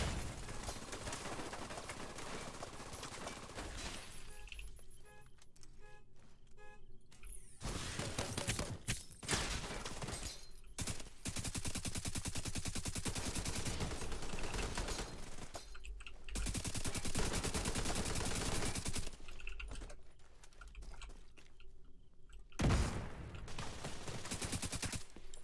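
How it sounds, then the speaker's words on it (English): SMG gunfire in The Division 2's Dark Zone, long sustained rapid-fire bursts broken by brief pauses, loud and dense throughout, with no talk over it. "That seems like SMG."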